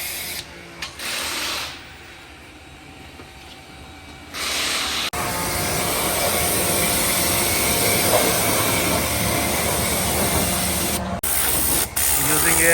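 A power washer sprays a BMW 528i during car detailing, a steady loud hissing jet that starts in short bursts and then runs continuously, with a voice briefly audible.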